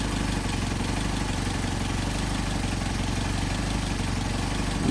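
A Mercedes 190SL with Solex carburetors idles steadily and close by, a continuous low engine rumble with no talk over it.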